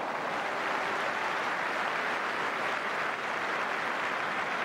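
A football crowd at Celtic v Kilmarnock in 2009 applauds Paddy McCourt, a dense, steady wash of clapping from a large stadium audience that holds at an even level throughout.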